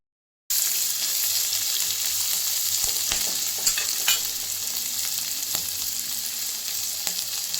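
Chilli chicken ingredients fry in a pan with a steady, close sizzle, broken by a few sharp clinks and scrapes of stirring, no voices.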